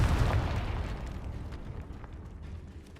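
A Confringo fire spell blasts in the Hogwarts Legacy video game, giving one booming explosive burst up front that rolls off into a rumbling decay.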